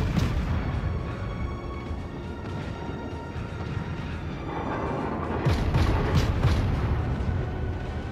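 Dense, rumbling booms of warship guns firing from the cruiser Erie in World of Warships amid continuous game noise, with a louder cluster of blasts near the end.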